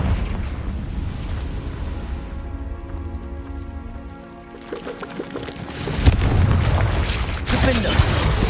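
Fiery spell blasts from Hogwarts Legacy combat, with booming, rumbling explosions over a continuous bed of game music and effects, including a sharp loud burst near the end.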